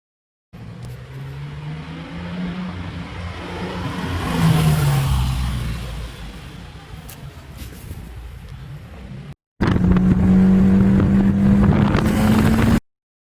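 A car engine drones and rises in pitch as it revs, with wind buffeting the microphone, then a louder, steady engine roar close by.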